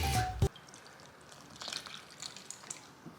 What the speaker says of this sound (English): We're gonna add some water, form it into a dough.